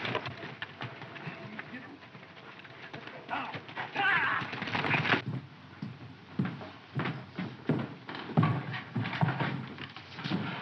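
Horse hooves clop on the ground in an uneven rhythm under voices talking, moderately close, in a 1941 Western film.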